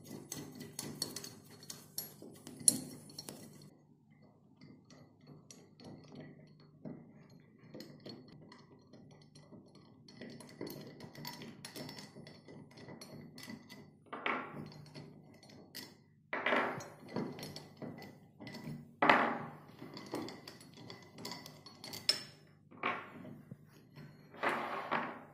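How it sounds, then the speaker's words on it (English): Metal parts of a carbon steel gate valve clink and clunk as it is taken apart and opened, with scattered faint taps early on and louder knocks and rattles building toward the end, close by and without speech. "Now I am opening the valve"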